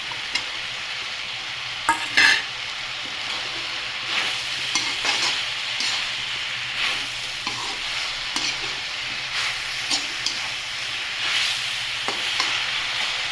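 Tomatoes, onions and tamarind with a pinch of turmeric soften in a pan for green chilli tomato chutney, a steady moderate sizzle punctuated by occasional spatula scrapes and knocks against the pan.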